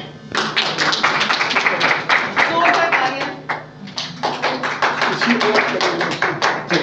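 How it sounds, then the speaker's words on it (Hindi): Crowd applause at a college music album release event in India, dense and steady clapping throughout, loud and close with a brief dip midway. "तालियां"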